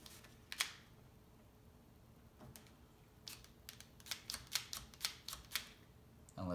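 A UGears Wolf-01 wooden model handgun, with sharp dry clacks of its trigger mechanism, one early then a quick irregular series of snaps close by, quiet background otherwise.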